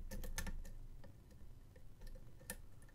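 Several small, sharp clicks and light ticks, close and quiet, from picking a pin-tumbler Vier V5 lock cylinder, irregularly spaced with a cluster near the start and a brighter click later.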